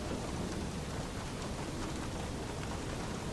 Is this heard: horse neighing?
no